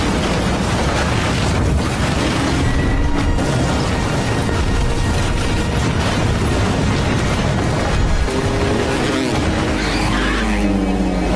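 Explosion in the action film Point Break, blasting a hillside as rocks tumble down: a loud, dense roar of blast and debris noise with screeching, engine-like layers throughout.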